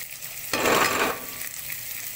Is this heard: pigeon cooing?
no